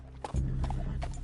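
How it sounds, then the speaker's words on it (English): Horse hooves in Red Dead Redemption 2 clip-clop close and distinct, a few quick beats at a walking pace, with no voices over them. "You got a good horse there."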